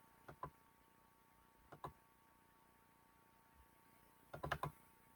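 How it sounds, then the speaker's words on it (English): A few sparse clusters of crisp clicks from a computer keyboard as a name is typed, quiet and close in an otherwise still room. "So I'm going to type my name,"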